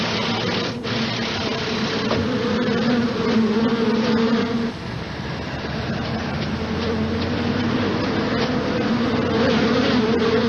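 A large swarm of bees buzzes in a dense, continuous drone that holds close and loud throughout, with a slight dip midway.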